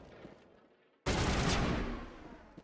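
A pistol loaded with organics rounds fires in Mass Effect, its loud burst cutting in abruptly after a quieter stretch and sustaining dense, roaring shots before tapering slightly toward the end.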